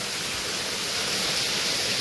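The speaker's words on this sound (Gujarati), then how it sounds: "વરસાદ આવવા માંડ્યો છે" Heavy monsoon rain pouring down outdoors at midday, a dense, unbroken roar of falling water that stays steady and fairly loud throughout.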